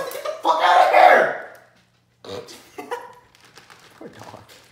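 A dog barks and whimpers during a car-care product unboxing, a loud whining bark followed by shorter yelps and whimpers, with people talking around it.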